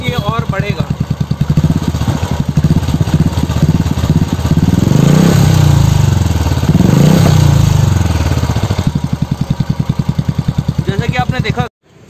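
A new motorcycle's engine starts and idles with a steady low putter, then is revved twice in rising, swelling bursts before settling back to idle and cutting off near the end; someone talks over it.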